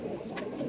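A pair of Rampuri cross-breed pigeons coos in a short, soft, low murmur at close range. It lasts under a second, with no voices.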